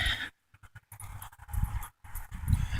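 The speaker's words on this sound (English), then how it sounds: "It is the Mad Dog." A dog close by gives short bursts of breathy panting and soft whimpering noises, with brief gaps of silence between them.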